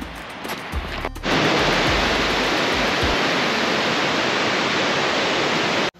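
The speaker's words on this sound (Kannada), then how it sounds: "ನೀವು ನೋಡ್ತಿರ್ಬೋದು ನೀರಿನ ಸೌಂಡ್ ಆಗಲೇ ಕೇಳಿಸ್ತಾ ಇದೆ ನಮಗೆ" The Diamond Falls waterfall near Kadur gives a loud, dense roar that surges in after some footsteps and handling noise, then holds steady until it cuts off abruptly near the end.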